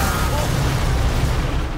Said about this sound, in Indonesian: mendengar ledakan itu